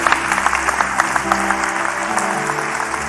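A church congregation applauds in dense, steady clapping with a low musical drone held underneath, filling the sanctuary at fairly close range.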